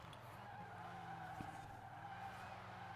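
Car in Forza Horizon 4 braking into a tight corner, tires skidding and squealing in a sustained smear over a steady engine drone, with a brief thump midway and no voices.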